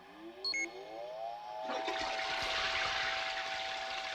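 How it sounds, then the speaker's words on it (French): A toilet flushes in a cartoon scene: a rising tonal whine leads into a loud, sustained rush of water that keeps pouring steadily to the end. "Bah, c'est une chasse d'eau, là, en fait."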